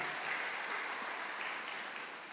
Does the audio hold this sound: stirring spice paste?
no